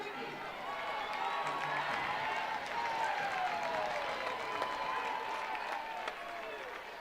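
A crowd at a Liberty vs Oregon softball super regional game cheers and applauds steadily, a dense sustained roar from the stands with a voice calling out above it.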